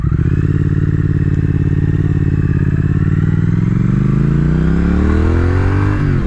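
Triumph Thruxton RS motorcycle engine revving close and loud, a steady throbbing idle that climbs in pitch toward the end as the revs rise, with no talk.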